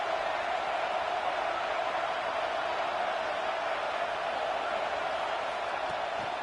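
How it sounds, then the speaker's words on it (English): A stadium crowd at a college football game roars as a steady, dense wash of cheering and noise from many voices, holding unbroken for several seconds with no clear single voice on top. "This crowd trying to make life miserable for this offense."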